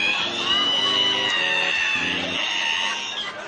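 A voice mimics a squeaky ironing board being opened, drawing out a high, strained, wavering screech like a cackling wail, continuous and close for several seconds, with faint crowd noise behind.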